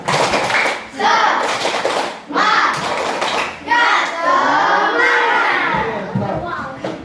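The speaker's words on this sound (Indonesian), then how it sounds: "Tepuk semangat." Primary schoolchildren in a classroom clap together in a rhythmic spirit-clap routine, several short bursts of loud group clapping with children's voices chanting along.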